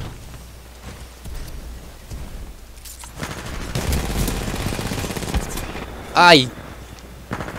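Shotgun fire in the game Titanfall 2, a burst of rapid, crackling shots from about three to six seconds, with a short voice exclamation and quiet talk around it.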